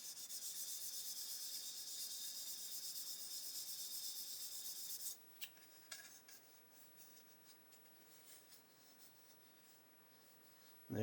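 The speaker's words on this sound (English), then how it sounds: "Just sand that out and see how it looks." Sanding of a plastic 1/12 scale Italeri Stratos model car body, a steady close scratchy rubbing for about five seconds that then stops, leaving faint scattered handling noises.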